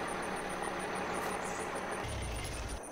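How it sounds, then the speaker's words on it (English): A truck engine idles in Farming Simulator 22, a steady low mechanical hum with a faint high tone above it, shifting to a deeper, louder rumble near the end, with no talking. "Engine sounds good."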